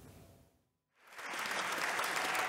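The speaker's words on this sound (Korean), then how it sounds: "공화당 의원들도 기립박수로 화답했습니다" Republican lawmakers give a standing ovation in a legislative chamber, loud sustained applause that swells after a brief lull and holds steady, dense and close.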